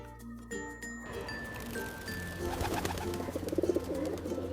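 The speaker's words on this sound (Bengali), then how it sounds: "এটা হলো পিজন মানে পায়রা।" A pigeon coos in a few soft, repeated calls, set against light chiming music and bell-like tinkles, with no talking.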